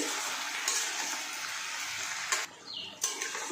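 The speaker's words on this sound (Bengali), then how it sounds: "নুন আর হলুদ দিয়ে আরও দু মিনিট ভেজে নিচ্ছি" Ridge gourd frying with salt and turmeric in a pan, a steady close sizzle that briefly drops out and returns, with a few light stirring clinks.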